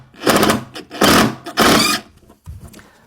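A stainless steel decking screw driven into an MDF stair tread, heard as three close, fairly loud whirring bursts of a powered driver, each about half a second long, followed by a quieter, brief tail.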